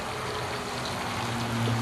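Water from a hose runs into a small garden well chamber on an allotment, a steady close trickling and splashing stream with a low hum underneath, no voices.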